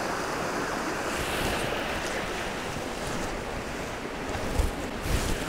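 Water rushes through a lock-like structure on a river beside a rural trail, a steady, loud broadband roar with gusts of wind noise and no voices.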